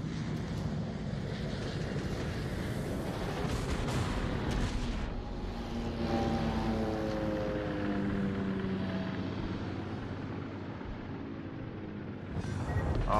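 Naval artillery rumbles in World of Warships gameplay, a continuous low roar of distant heavy gunfire and booms, with a droning engine-like tone rising midway.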